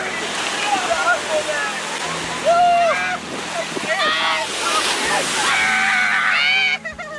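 Ocean surf washes and crashes at a beach during a day out, a broad, steady roar with people shouting and talking loudly over it.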